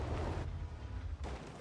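A GW E100 self-propelled artillery gun fires in World of Tanks, two heavy booming shots roughly a second apart, deep and loud with a rumbling tail.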